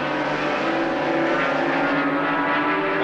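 Norton rotary and Suzuki racing motorcycles roar past in a tight bunch during a road race, a loud sustained engine howl with shifting pitch that holds steady for about three seconds.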